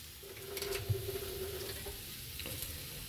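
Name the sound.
cooking cream added to curry in frying pan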